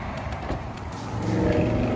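A powered tailgate on a 2021 Aston Martin DBX or 2021 Bentley Bentayga luxury SUV lowers after a button push, a steady motor hum rising slightly toward the end as the hatch comes down, close by.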